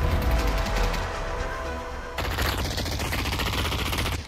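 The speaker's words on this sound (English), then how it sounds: "Who the fuck is shooting me?" Rapid automatic gunfire in the VR shooter Pavlov VR, dense loud bursts of rattling shots from close range that continue almost without pause through the clip, with a brief shift in tone partway through.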